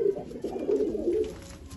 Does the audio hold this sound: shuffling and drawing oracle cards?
no